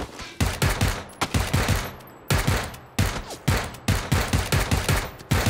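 Rapid automatic gunfire from submachine guns in the shooter game PUBG, loud, close bursts of fast shots in several rattling volleys separated by short pauses, with no talking.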